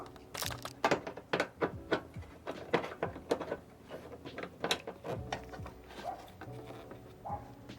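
A ratchet tightening the mudflap bolts on a 2010 Subaru STI hatchback gives a run of close, sharp clicking and clanking bursts in an irregular rhythm, with no talk.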